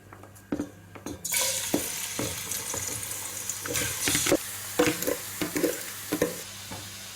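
Chicken drumsticks sizzle and fry in a pot, a constant crackling hiss broken by repeated clinks and scrapes of a utensil stirring and turning the meat, close and fairly loud.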